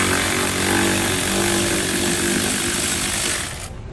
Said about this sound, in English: We're going to remove that with the same 10mm socket or large Phillips screwdriver.